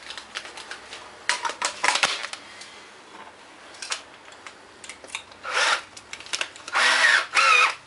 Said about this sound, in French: avec une visseuse, on va uniquement marquer l'axe pour être vraiment sûr qu'on est en face.